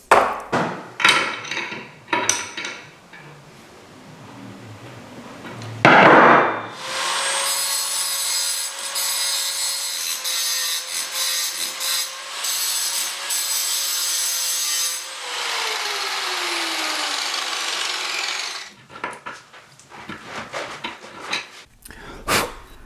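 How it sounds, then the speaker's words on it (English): After a few knocks and handling sounds, an angle grinder whines loudly against a metal nut, rounding it off, for about twelve seconds, then winds down into clattering. "go on the grinder and round it off so it's got no hope of a tool touching it"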